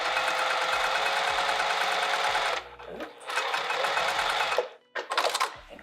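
A sewing machine basting a vinyl sling bag piece runs steadily at speed for over two seconds, stops, runs again, then finishes with short stop-start stitching bursts close by.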